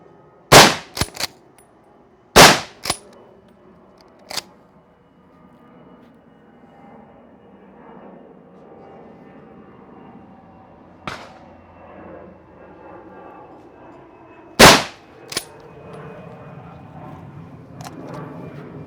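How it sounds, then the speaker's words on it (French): Merkel RX Helix Black Phantom rifle shots fired at a target outdoors: a few sharp, loud cracks spaced seconds apart, each followed by a brief echo, with quiet background between them. "À quel endroit vous pensez avoir tiré?"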